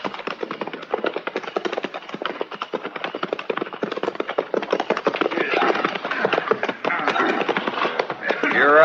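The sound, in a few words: horses riding up, hooves clip-clopping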